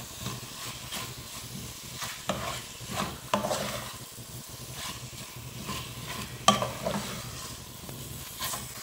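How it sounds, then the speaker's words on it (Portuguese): Chickpeas and chicken fillet sautéing in a pan with tomato and bell pepper to come, a steady close sizzle broken by several stirring scrapes and clinks of a utensil, with no voices. "a gente vai deixar refogar bem"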